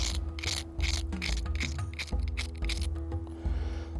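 Rhythmic grinding of a stone point's hafting area, a repeated rasping scrape with regular strokes, close and fairly loud, alone without talk.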